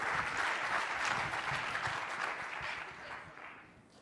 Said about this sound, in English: I think we should give them another big round of applause